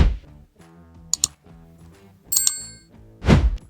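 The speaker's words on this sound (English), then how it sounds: "Oh, the bell works." A small bell in a courtyard gives two quick bright dings, followed later by a brief cluster of metallic rings. Soft clicks and knocks fill the gaps, and a louder burst of noise comes at the end.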